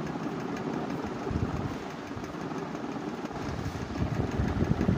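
A tractor engine idles steadily at close range while soil is loaded with a shovel, giving a continuous throbbing, knocking chug at moderate loudness with no voices.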